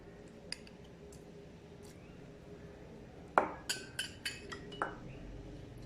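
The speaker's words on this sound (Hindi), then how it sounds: "चिकन बोनलेस लिए मैंने, मैं इसे शीशे के बाउल में डालूंगी" Pieces of boneless chicken are dropped into a glass bowl, giving a cluster of light clinks and soft knocks close by, a few quick hits in a row after a quiet start.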